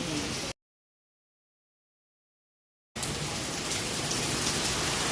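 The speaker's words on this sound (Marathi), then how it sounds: "पाऊस बघा तिकडे." Heavy rain pours down in a May storm, a loud dense wash of noise that cuts out completely for a couple of seconds and then returns just as steady.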